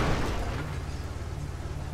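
Low rumbling thuds and knocks from a car stuck inside a building in the FiveM GTA video game, repeatedly banging into walls, as a steady dense low-end rumble with no talk over it.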